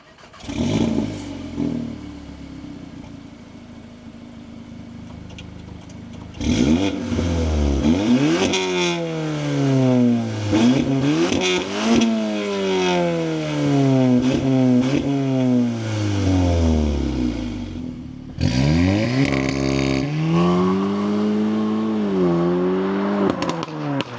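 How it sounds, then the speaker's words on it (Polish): A 2022 Cupra Formentor VZ 2.0 TSI with its original exhaust and an upgraded downpipe revs repeatedly, engine note sweeping up and falling back in sharp loud pulls with crackles between, close by with no talk. "przed tym soundcheck. Wydech jest tutaj oryginalny, jedynie zrobiony downpipe."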